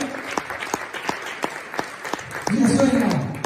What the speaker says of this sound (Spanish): Dale palmas a la palabra.